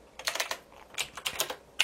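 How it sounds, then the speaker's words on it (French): Quick bursts of keystrokes on a computer keyboard typing a DISM command, close and crisp, irregular clusters of clicks with a short pause between them, no voices. "Donc si je tape DISM get"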